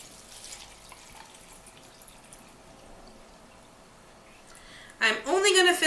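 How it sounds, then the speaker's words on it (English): Water pours into a small container holding a little alcohol, mixed for cleaning hair and make-up brushes; a loud, splashy rush starts near the end after a quiet stretch of faint room noise. "then I'm going to add the water"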